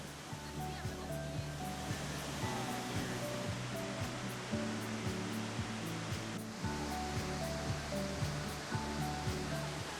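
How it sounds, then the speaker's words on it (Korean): The Kuang Si waterfall in Laos, water cascading down stepped tiers through green forest, gives a steady broadband rushing roar, continuous and even, with sustained tonal notes layered on top. "푸른 숲 사이로 계단처럼 내려오는 폭포의 물소리는 세상의 소란을 잠시 멈추게 합니다"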